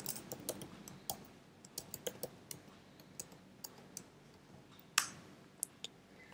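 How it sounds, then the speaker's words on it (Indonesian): Keystrokes on a computer keyboard while logging in to a VPS, a scattered run of light clicks with uneven spacing and one sharper key strike near the end, close and fairly quiet against a soft room hiss. "kita ketik yes, enter, kemudian masukkan password"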